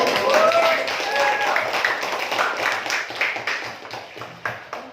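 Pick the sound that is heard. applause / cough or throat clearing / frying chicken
applause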